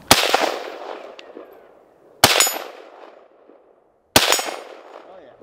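A Zastava ZPAPM70 rifle fires outdoors in snow, three loud, sharp, close reports spaced about two seconds apart, each trailing off into a fading echo.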